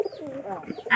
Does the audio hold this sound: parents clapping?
no